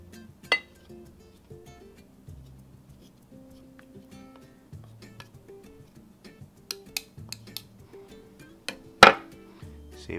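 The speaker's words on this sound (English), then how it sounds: "there's some stuff left around the seed. I'm gonna get that off" A spoon scraping avocado flesh from around the seed, giving scattered light clinks and scrapes with a sharper knock near the end, heard under quiet background music.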